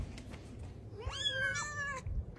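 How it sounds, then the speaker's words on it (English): A cat gives one clear, drawn-out meow with a rising then falling pitch, close and fairly quiet over faint room noise. "My cat really loves cheese."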